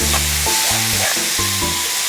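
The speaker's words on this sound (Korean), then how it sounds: "자, 골고루 휘저으면서 물기가 없어질 때까지 볶아주시는 거예요." Fish cake is stir-fried in a seasoning sauce until the liquid cooks off, making a steady loud sizzle close by, with tonal music playing over it and no talking.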